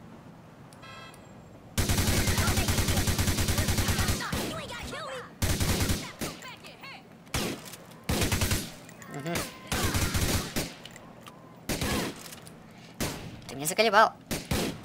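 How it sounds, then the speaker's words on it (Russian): Gunfire in GTA IV, long sustained bursts of automatic fire alternating with shorter volleys, loud and close, with someone speaking briefly in between. "Стреляет он там сверху"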